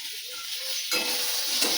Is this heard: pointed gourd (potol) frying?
yes